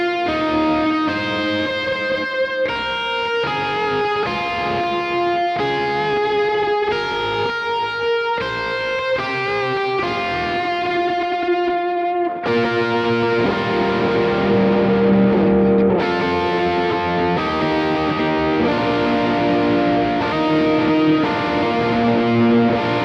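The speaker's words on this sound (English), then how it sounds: "the red side is a heavy overdrive." An electric guitar through the red, heavy-overdrive side of a King of Tone pedal plays sustained, chord-based phrases for over twenty seconds, the tone thick and saturated, loud and close, shifting to ringing held chords partway through.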